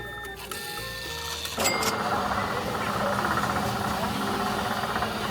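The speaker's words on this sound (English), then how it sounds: "You have to buy your tickets from a machine." A ticket vending machine at an amusement park in Japan dispenses tickets. Brief mechanical tones give way to a sustained whirring, printing-like drone with a sharp clunk, close and fairly loud.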